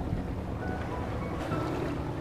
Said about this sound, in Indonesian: Kebetulan saya sekarang ada di pinggir pantai.